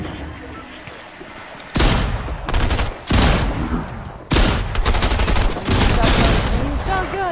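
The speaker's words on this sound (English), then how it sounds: "Shotgun!" Fortnite gunplay with shotgun fire erupts in several loud, close bursts of shots separated by short pauses, with game effects layered in.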